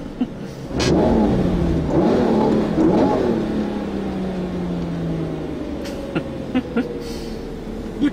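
A Lamborghini Murcielago LP640 engine blipped hard: a loud, close roar that surges up sharply, then several long revs sweep up and fall away, ending in short throttle stabs.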